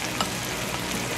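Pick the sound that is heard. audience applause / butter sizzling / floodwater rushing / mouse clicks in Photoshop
butter sizzling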